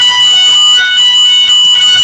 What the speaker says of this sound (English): Okay, we have a fire alarm here.